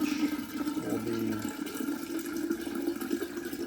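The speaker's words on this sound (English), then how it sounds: "once the tap water goes through the zero water, I'll take that water and I'll put it into a container" Tap water runs steadily through a ZeroWater filter jug, a close continuous splashing flow with a faint tonal hum underneath.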